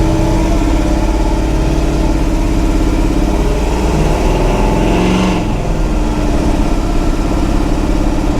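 A Toyota truck fitted with a small-block Chevy engine accelerates, its loud, steady engine drone close up and rising in pitch, continuous throughout with no talk.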